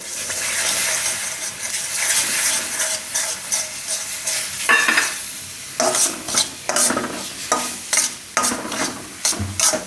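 Milk is poured into a hot pan of sorghum flour sukhdi and stirred: a steady frying hiss gives way midway to a burst of bubbling, then repeated close scraping strokes of a spoon against the pan.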